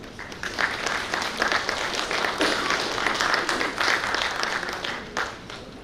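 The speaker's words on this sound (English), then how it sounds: "A big round of applause, please." An audience at a chartered accountants' conference session claps steadily, a dense patter of many hands that rises and fades slightly over several seconds.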